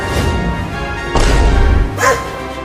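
A cartoon dog barks in a couple of loud, gruff bursts amid dense, busy animated-show background sound and effects.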